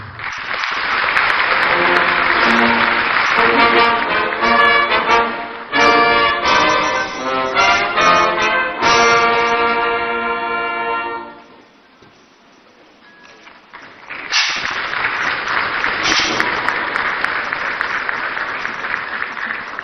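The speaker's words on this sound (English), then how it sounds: "Another round of applause, ladies and gentlemen" An audience at the National Economic Dialogue 2025 at AICC applauds loudly, mixed with tonal music, dips into a brief lull midway, then swells back into dense clapping.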